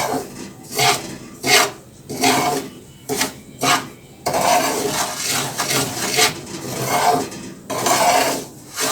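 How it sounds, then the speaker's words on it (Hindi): A spoon scrapes and stirs semolina frying in a pan, making loud rhythmic rasping strokes. Short bursts come first, then a longer continuous scraping run, with no voices. "बस जस्ट इसके अंदर जल्दी जल्दी से मैं चम्मच चलाती रहूँगी ताकि ये जल ना जाए।"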